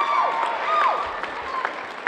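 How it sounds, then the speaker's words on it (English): Applause at a high school holiday assembly: a steady wash of clapping from a gathered crowd, with a few scattered voices and whistles calling out over it. "Another round of applause for Leah."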